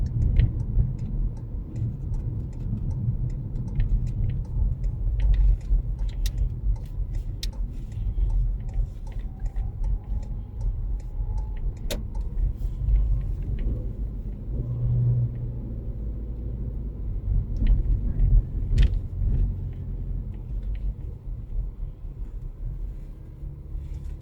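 A car travels along a road during a UK driving lesson, with a low steady engine and road rumble throughout and faint ticking like an indicator clicking over it, no voices.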